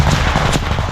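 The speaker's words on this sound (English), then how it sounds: "you can hear the loud explosions of Russian artillery shells" Russian artillery shells exploding close by near a trench position, a burst of heavy, booming impacts in rapid succession, loud and dense.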